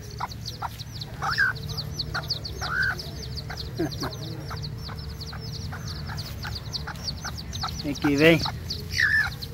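Four young chicks of a speckled hen peep in quick, repeated high chirps, with occasional louder calls from nearby birds and a person softly calling to them.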